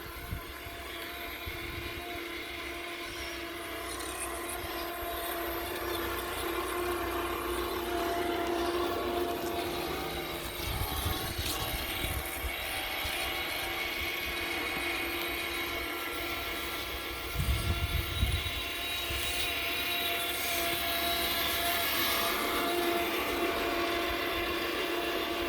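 An SCX6 Clod RC truck with dual brushless motors crawls at walking speed, giving a continuous close mechanical whir with ratcheting drivetrain noise and occasional louder gear clatters.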